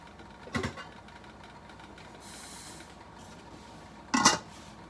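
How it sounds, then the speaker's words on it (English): A lid is set back onto a canner pot holding jars of cream cheese, giving two sharp metallic clanks a few seconds apart against a quiet background. "Alright, I'm going to replace the lid."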